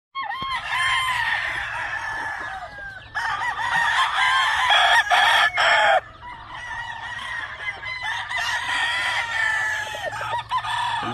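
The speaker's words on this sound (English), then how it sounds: "This is a Harold Brown rooster right here." A Harold Brown gamefowl rooster crows loudly and close by, giving several long, strained, wavering calls one after another with short gaps between them and no talking.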